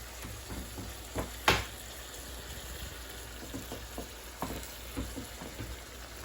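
Shrimp sit in garlic butter juices in a pan beside salmon, giving a soft, continuous sizzle with scattered light pops and a few utensil clicks, fairly quiet and close.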